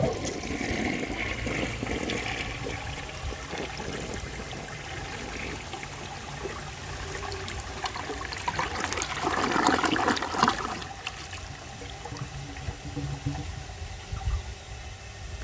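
A 1960 Rheem-Richmond Claymore toilet flushes a grocery bag: a rushing swirl of water builds, peaks with a loud gurgling surge, then drops to a trickling refill, close-up with no talking.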